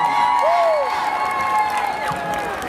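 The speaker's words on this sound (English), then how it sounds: "Now give Mr. Baxter a round of applause." Crowd at a Mobile marching band Battle of the Bands applauding and cheering, loud sustained roar with whoops and shouts, voices rising over it.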